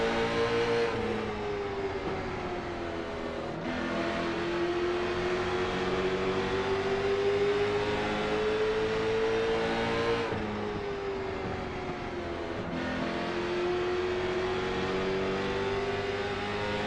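NASCAR stock cars roar around Homestead-Miami Speedway, engines accelerating and revving continuously with rising and falling pitch as cars pass, loud and sustained.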